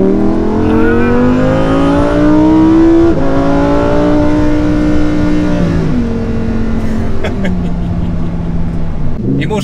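A Lamborghini Huracan EVO sports car engine revs hard, a loud, steady engine note climbing in pitch and falling back between gear changes, with a person talking over it.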